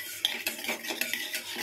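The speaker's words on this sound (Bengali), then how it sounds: "তেল গরম হয়ে গেছে, এর মধ্যে একটু কালো জিরে দিয়ে দিচ্ছি" Nigella seeds stirred through hot mustard oil in a pan: a soft background sizzle under repeated scraping strokes and light metallic clinks of a spatula against the pan, close and fairly quiet.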